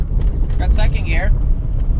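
A 1984 Dodge Mini RAM pickup, a one-owner truck run after being parked 25 years, pulls away in second gear with a steady low engine drone, while someone talks over it inside the cab.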